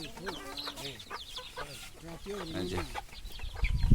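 Hill chickens at a village farm cluck in quick repeated bursts, several birds close together, with a mild background murmur and a louder rustle at the end.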